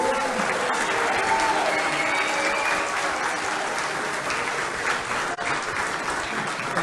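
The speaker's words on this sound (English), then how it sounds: "an applause from the audience" An audience claps steadily in a studio, dense sustained applause throughout without pause.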